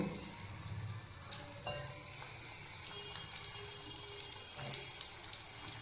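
Sesame fritters, til bora, warming briefly in hot oil, with a soft, quiet sizzle and light crackling that grows busier toward the end, mixed with faint watery kitchen noise.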